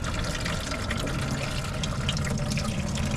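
Coolant draining from a Nissan Sentra MR20DE engine into a bucket, a steady broadband splashing rush of liquid, close and continuous without pauses.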